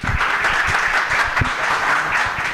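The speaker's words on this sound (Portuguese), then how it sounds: "Salva de palmas." An audience at a public talk on open data applauds a presenter, a loud, dense, continuous round of clapping that stays even throughout with no voices on top.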